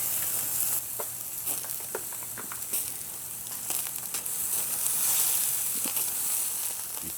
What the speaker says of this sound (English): Beef tenderloin cooked on a Dutch Gear Flies titanium grill using a